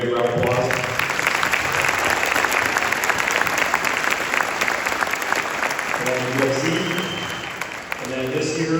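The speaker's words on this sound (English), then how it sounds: "Give them a big round of applause." Dense, sustained audience applause fills a high school spring band concert, honoring about a dozen honors band students, loud and steady throughout, with some voices and faint tonal sounds near the end.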